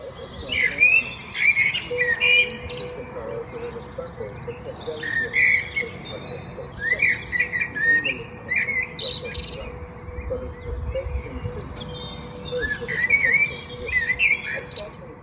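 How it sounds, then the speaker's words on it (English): A blackbird sings from a beech hedge in spring, its fluting, varied phrases repeating in short bursts over a soft, steady background hum. "this blackbird visits me every spring. It sits on my beech hedge, singing its heart out all day."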